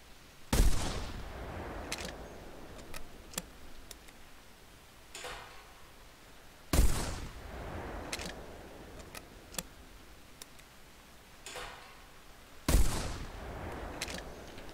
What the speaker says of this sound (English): the 12 gauge birdshot is extremely flat shooting